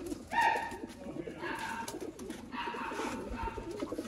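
Batera pigeons, an A+ quality breeder pair, cooing nearby in a short soft call, with faint rustling and background noise around them.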